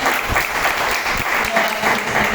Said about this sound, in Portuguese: Aplauda o nosso Deus.